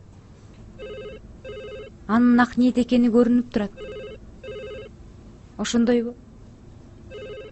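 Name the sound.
telephone ringing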